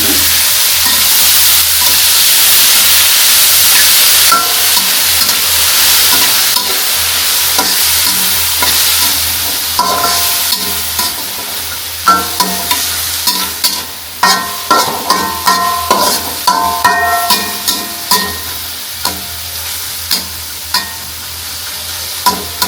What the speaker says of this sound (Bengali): এর মধ্যে দিয়ে দেবো এই সবজিগুলো ভেজে নেওয়ার জন্য।